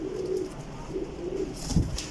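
Pigeons coo in low, repeated rolling calls close by, with a brief flutter or rustle near the end and no talk.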